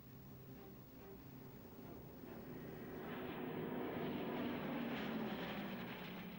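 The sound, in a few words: Bristol Blenheim bomber aircraft flying, propeller engines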